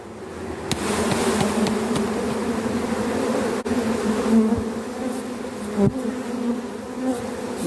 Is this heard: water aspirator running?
no